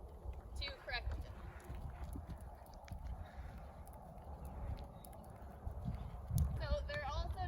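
Hooves clop softly and rhythmically as a horse is ridden through a lead change during a riding lesson, faint and continuous beneath a rider's spoken instruction, with a couple of bird calls.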